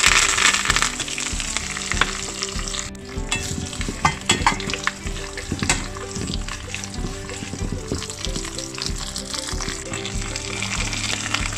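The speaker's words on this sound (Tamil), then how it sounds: "இப்போ நம்ம வந்து கட்டி வச்சுக்கிற வெங்காயம், கருவேப்பிலை, மிளகாய் எல்லாத்தையும் அதில் சேர்த்துடலாம்." Onions, curry leaves and chillies sizzle in hot oil for a village-style fish curry, a dense close frying crackle with frequent spatula clinks and stirring scrapes, no talking.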